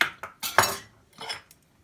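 Several quick metal-on-bowl scrapes and clinks from close up as a fork mixes curd with raisins, salt and egg into a thick mixture, then quiet.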